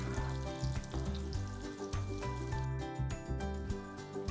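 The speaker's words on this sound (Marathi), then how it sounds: "आपल्याला हे कोफ्ते लालसर रंगावर तळून घ्यायचे।" Bottle gourd koftas frying in hot oil, a steady close bubbling sizzle that runs the whole time with small crackling pops over it and no talking.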